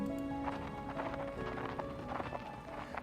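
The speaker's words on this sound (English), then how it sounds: "The two of them walk indoors, their conversation disappearing from the courtyard under the sound of footsteps on hard stone." Footsteps on hard stone as two characters walk indoors from a courtyard in the video game Reverse: 1999, heard as a soft, steady run of clopping steps over a faint tonal background.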